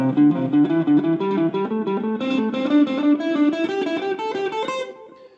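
Clean electric guitar plays a steady run of single notes climbing and descending a scale, evenly paced with no voices.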